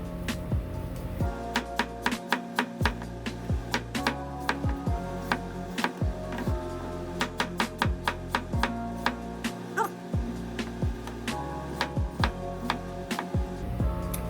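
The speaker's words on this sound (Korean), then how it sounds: "사과는 껍질을 안 벗기고 썰습니다" A knife slices through an unpeeled apple on a cutting board, a long series of sharp, evenly spaced chops and taps close up, with no talking.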